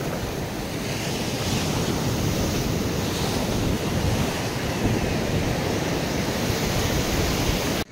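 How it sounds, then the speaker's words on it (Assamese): Big sea waves surging and breaking on an open coast, a continuous loud roar of surf with wind buffeting the microphone throughout, no voices. "কি ডাঙৰ ডাঙৰ ঢৌ"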